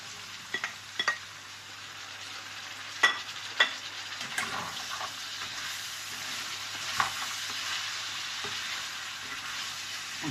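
String beans drop into a pan of sizzling garlic and onion for a coconut shrimp dish, giving a constant frying hiss with a few sharp utensil clinks and scrapes as they are stirred.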